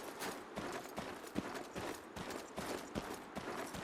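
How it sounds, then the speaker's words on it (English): Horse hooves clip-clop at a steady walking rhythm in the medieval video game 1348 Ex Voto, a string of close, moderately loud hoof strikes heard alone with no talk. "Why leave a horse behind?"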